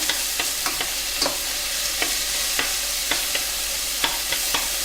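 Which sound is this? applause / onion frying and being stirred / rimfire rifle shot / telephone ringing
onion frying and being stirred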